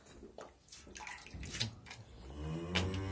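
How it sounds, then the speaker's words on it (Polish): Hissing bursts of spraying water, irregular and fairly close, with a wet splashy texture and no talking. "zawsze na początku psika im woda"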